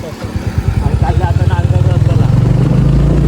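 A new motorcycle runs while being ridden, its engine thumping in a fast, even, loud pulse close to the listener that steadies into a continuous drone.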